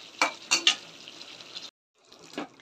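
Curry is being stirred and sautéed in a pan in a village home kitchen, with a soft sizzle and a few sharp scraping clicks, a brief gap, then one more scrape.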